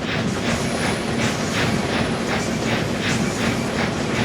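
A steam locomotive runs through a Denver route in the Trainz Simulator game, its wheels and chuffs beating a loud, rapid, regular rhythm over a dense rolling rumble.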